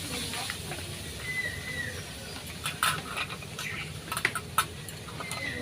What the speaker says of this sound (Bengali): এবার মশলাটা ভালো করে কষে নেব।